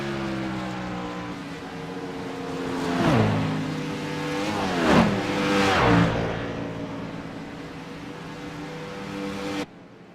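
Race car engines in a stock-car racing game at Michigan roar and rev continuously, with several louder swells as cars sweep past, the engine pitch rising and falling through each pass before the sound cuts off abruptly.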